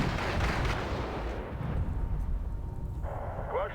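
Heavy T-62 tank cannon fire in the Cold War strategy game Wargame: European Escalation, a loud booming blast with rumbling roll-off that fills the whole stretch, followed by a fainter crackle near the end.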